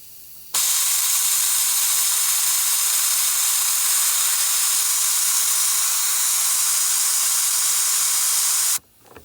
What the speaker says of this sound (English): blowing any leftover debris out